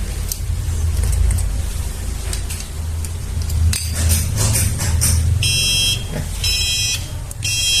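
A buzzer on an RFID door-lock security system for a server rack goes off for an unregistered tag, sounding as short, bright beeping bursts near the end over a low background hum.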